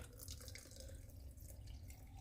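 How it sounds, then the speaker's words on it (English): Homemade pickling liquid pours into a jar of beets, a faint, steady trickling splash continuing without pause. "So I made some more pickling liquid, and I'm just going to pour that into the jar."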